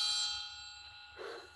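A pen struck like a chime gives a bright, sustained ringing tone that slowly fades, followed by a brief, softer lower-pitched knock at the end.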